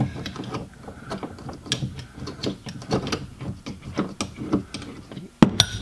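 Wrench ratcheting a nut snug on the rear glass hinge of a 2012 Ford Escape, a close series of crisp, even clicks with a loud clunk near the end.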